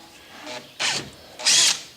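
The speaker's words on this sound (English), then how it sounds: "get a little drill bit and drill a starter hole" A power drill bores a starter hole for a rivet in the engine access latch of a John Deere 240 skid steer, revving in two short bursts with a brief pause between, close and fairly loud.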